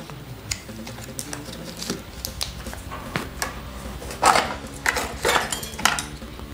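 Epoxy putty being cut into pieces with a blade, giving sharp taps and clicks against a hard surface, close and fairly quiet, with no talking.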